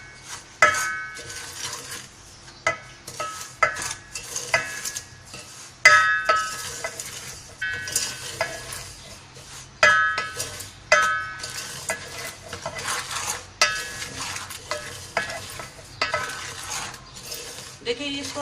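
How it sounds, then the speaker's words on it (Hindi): A spoon stirs semolina being roasted in a metal cooking pot over very low heat, with repeated scraping and clinking against the pot sides in an irregular rhythm, close and moderately loud, with no talk. "देखिए इसको अच्छे से हमें सूजी को भूनना है"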